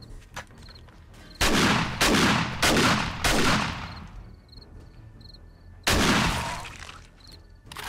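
Heavy shotgun blasts in the survival game 7 Days to Die, four loud booming shots in quick succession, then a short pause with faint high clinks and a fifth blast that decays slowly, with no talk over them.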